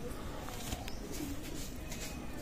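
Pakistani high-flying pigeons coo softly in a loft, with low, faint cooing calls rising over a steady background hiss and a few light chirps.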